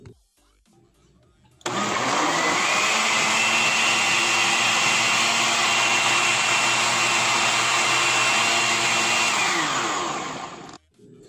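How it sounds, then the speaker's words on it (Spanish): A blender grinds a gelatin dessert mixture in one long, loud, steady whir that starts abruptly, holds for about nine seconds and then stops. "Voy a molerlo por unos segundos, ya cuando esté moliendo voy a abrir para agregar mi grenetina."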